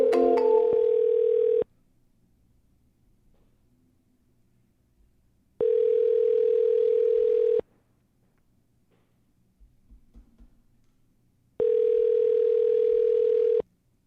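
Telephone ringback tone on an outgoing call, three long steady buzzing rings about two seconds each with quiet gaps between, loud and close, no talking.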